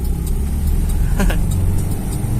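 A Toyota Kijang engine, recently repaired for an ignition fault, runs at high RPM with a steady, loud, close-up drone throughout, no stumbling or misfire evident.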